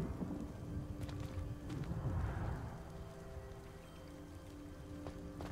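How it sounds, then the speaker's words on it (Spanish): Rain and rumbling thunder in the video game Hogwarts Legacy, a steady wash of rainfall with a low thunder swell peaking early, continuous and fairly loud with no talking. "Empieza a llover."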